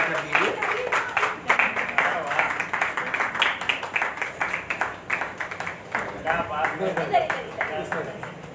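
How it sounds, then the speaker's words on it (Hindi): Sustained audience applause at a stage event for a literary platform's second annual celebration, many hands clapping steadily and fairly close for several seconds, dense and continuous with small swells. "आप तो तालियों का हुजूम खड़ा कर दीजिए।"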